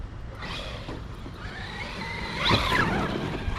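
The motor of an Arrma Big Rock 223S RC truck whines as it brakes hard, its tires briefly squealing and skidding across the surface.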